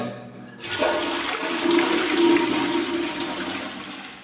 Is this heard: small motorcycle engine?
no